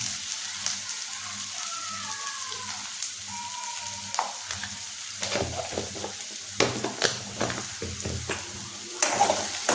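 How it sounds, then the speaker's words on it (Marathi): Turmeric being stirred into softened onions frying in a pan, with a steady close sizzle and repeated scraping strokes of a spoon against the pan throughout. "हळद टाकल्यानंतर ही छानपैकी मिक्स करून घ्यायची हलवून."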